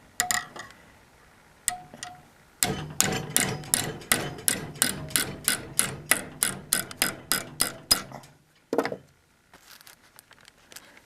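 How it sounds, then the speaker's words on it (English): A fast run of sharp metallic hammer blows on a metal pipe shield bracket held in a vise, about twenty evenly spaced strikes, preceded and followed by a few isolated knocks. "Now, take the hammer."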